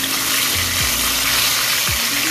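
Chicken pieces for chicken adobo fry in a pan with a loud, steady hiss of sizzling oil that fills the whole stretch, broken by a couple of soft low thumps and no voices.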